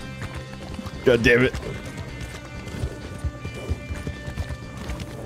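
Horse hooves gallop in the western video game Red Dead Redemption, a continuous rhythmic clatter running under the action, while someone speaks briefly over it.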